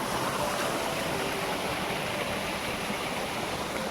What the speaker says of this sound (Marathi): आणि ह्या बाजून पाणी जातोय थोडा थोडा